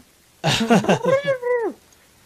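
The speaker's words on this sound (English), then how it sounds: "Did you hear the cat in the back as he's taking it out of the room?" A cat gives a drawn-out, wavering meow with several rising and falling inflections, fairly close and loud, nothing else around it.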